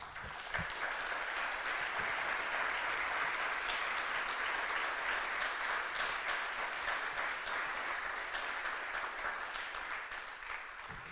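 Studio audience applause, dense sustained clapping from many hands that stays loud and even for the whole stretch, with no talk over it.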